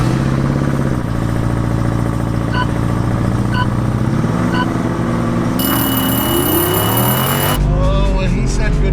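Ford Bronco Raptor in sport mode with the Baja exhaust setting, its engine droning and rising in pitch under acceleration, loud and close, with a sharp change in tone near the end.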